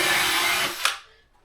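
A power drill spinning a horsehair brush along a waxed snowboard whirs steadily up close, then cuts off and spins down to silence within a second.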